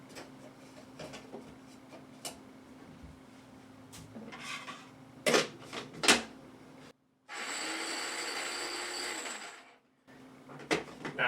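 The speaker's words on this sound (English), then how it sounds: "we can chop up our onions and garlic" Onions and garlic being chopped with a knife on a cutting board, sharp scattered clicks and thumps, some in quick pairs, close and fairly quiet, broken by a longer scraping rasp as the pile is pushed across the board.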